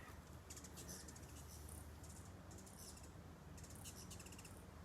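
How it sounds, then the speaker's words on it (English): A hummingbird flying overhead, with faint, quiet bursts of high buzzing wingbeats and tiny chirps coming and going in short clusters. "That's a hummingbird flying overhead."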